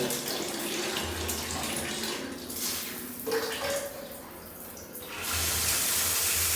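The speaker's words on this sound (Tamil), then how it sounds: "இது அப்படியே வந்து நீங்கள் டச் பண்ணிங்கனாலே ஷவர் வரும்." Shower water running steadily in a remodelled bathroom after being switched on, a broad continuous spray and splash that dips briefly midway and then swells louder near the end, with no talk.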